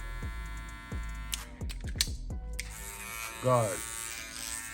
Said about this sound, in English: There's no rattling, but the clipper is a little bit louder.